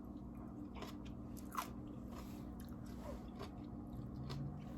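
Crisp crunching bites into battered vegan fried pickles dipped in ranch, with a few quiet, close chewing crunches and one sharper bite over a low hum.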